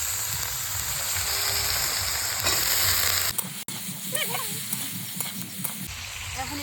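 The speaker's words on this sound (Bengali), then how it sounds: "তারপরে হচ্ছে পেঁয়াজ কুচি আর লঙ্কা কুচি এটা একটু এখন ভেজে নেব" Chopped onion and green chilli fry in a pan with a steady, close hiss of sizzling oil and occasional stirring scrapes, with no talk.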